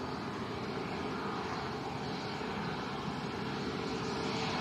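A Transavia Airbus A321neo airliner at Lanzarote Arrecife airport gives off a steady, broad engine roar that holds at a constant level at moderate distance, with no talk over it.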